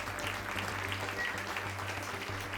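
Studio audience applause on the Armenian television show Two Stars 2, a dense, steady wash of clapping that holds at an even level throughout, with a low hum underneath and no talk.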